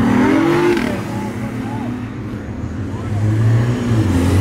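A sports car engine growls and revs at close range, with a low throaty drone that swells at the start and again near the end, while people talk nearby.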